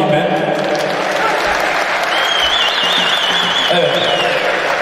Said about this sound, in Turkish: Alkış alayım ben.